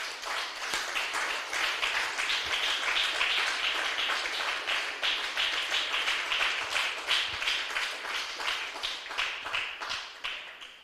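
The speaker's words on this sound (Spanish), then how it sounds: "Denle un aplauso fuerte al Señor, aleluya." A church congregation applauding during a sermon, a dense, sustained round of many hands clapping at an even rhythm, moderately loud and continuous for several seconds without speech.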